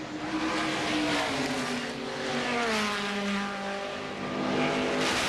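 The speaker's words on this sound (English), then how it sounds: "It is a dogfight between Tim Richmond and Darrell Waltrip." Race cars at the 1986 Budweiser at The Glen, with Tim Richmond and Darrell Waltrip dueling closely. Loud, continuous engine roar with pitch rising and falling through gear changes and passes, and no talk over it.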